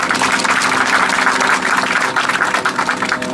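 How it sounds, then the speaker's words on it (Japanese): An audience at a city flower-and-greenery award ceremony applauds, a dense, even wash of many hands clapping that stays loud and steady throughout. "会場の皆様、盛大な拍手をお送りください"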